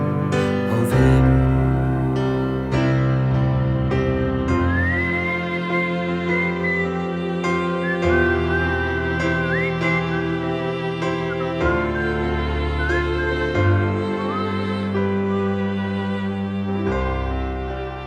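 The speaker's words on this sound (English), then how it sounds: "A bit of whistling there as well" A clear, sustained whistled melody weaves through a live folk song performance, riding over guitar and band accompaniment as it steps between held notes.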